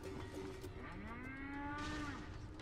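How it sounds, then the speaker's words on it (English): A Gekko in Metal Gear Rising lets out a loud, drawn-out cow-like moo with a gliding pitch, rising over a dense bed of game music and effects. "They make a cow noise."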